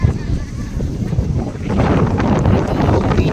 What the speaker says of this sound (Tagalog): Sarap pumunta dito guys, sobrang lakas ng hangin.